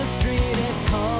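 A brief burst of pop punk drum programming with closed hi-hat hits alternating between different samples, tight and rhythmic inside a dense, loud band mix.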